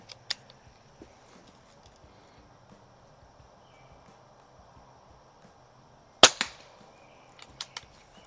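An air pistol, an AMT Lightning or a Crosman 1701P, fires at a target 50 feet away: one sharp, loud crack stands out against a quiet background, followed by a few faint clicks.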